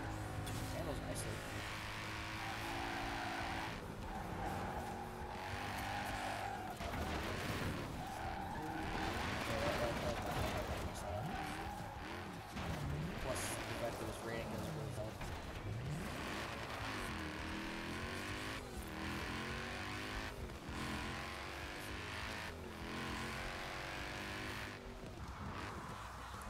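Engine of a 1954 Mercedes-Benz 300 SL Coupe driven in the Forza racing video game, revving and shifting through gears with tire squeal and skidding, loud and continuous throughout under someone talking.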